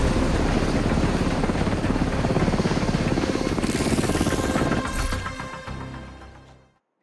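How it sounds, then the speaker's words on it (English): Drones sent out in the video game The Division 2 give a loud, steady rotor-like buzzing whir that fills the scene, then fades away over the last couple of seconds. "I'm sending out the drones!"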